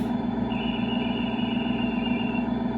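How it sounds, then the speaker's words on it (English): A thin, high conductor whistle from an LGB 2095 model train with a Zimo sound decoder sounds for about two seconds over a steady low engine-like hum, with no one speaking. "that's your conductor whistle."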